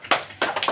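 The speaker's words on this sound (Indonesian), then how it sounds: "Lagi tepuk tangan untuk Nadia." A classroom group claps for a student during a micro-teaching practice session, with a few short bursts of hand claps in quick succession, close and brief.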